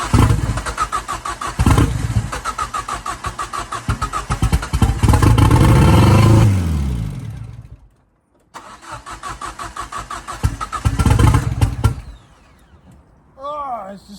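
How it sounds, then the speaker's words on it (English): A Ford Fiesta RS Turbo engine cranks repeatedly and catches, revving loudly, then cuts out; after a pause it cranks again in rapid rhythmic bursts and sputters, starved of fuel. "So we do have a started car."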